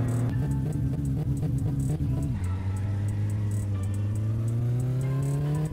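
A car engine revs hard in My Summer Car during a drag race, climbing through a gear change with a steady rising drone, loud and close with no talking.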